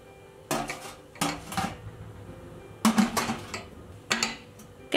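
Food being set into a steamer pot for apple and egg cake batter, heard as four separate clattering knocks of pans and dishes spread across the moment, fairly close and with no talking.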